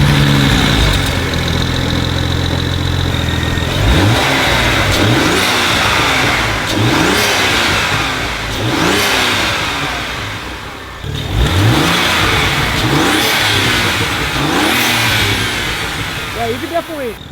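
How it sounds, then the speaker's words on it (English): A BMW 135i with an N54 engine, fitted with cold air intakes and cowl delete filters, revs repeatedly from idle. The loud, close surges rise and fall in a steady rhythm. "Yeah, let's listen to what it sounds like at this point."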